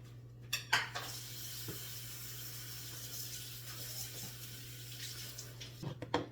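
Garlic sautés in a pan with a faint, steady sizzle, broken now and then by a few light utensil clinks against the pan over a constant low hum.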